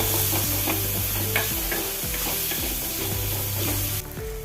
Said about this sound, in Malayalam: ഇനി എരിവിന് ഒരു ചെറിയ സ്പൂണിന് മുളക് പൊടി ഇട്ട് ഒന്ന് മിക്സ് ചെയ്ത് കൊടുക്കുക